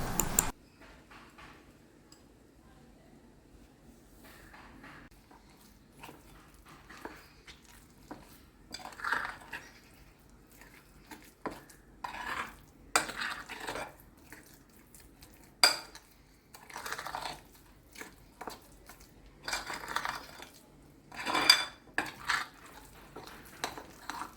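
Flattened rice powder being stirred with jaggery syrup in a bowl for a sweet snack, giving soft scraping and clinking of a spoon against the bowl in intermittent bursts, close and fairly quiet.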